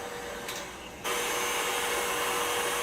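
An electric mixer whisks avocado chocolate mousse on low, a steady close whirring hum that steps up louder after a second and runs on continuously, with no talking.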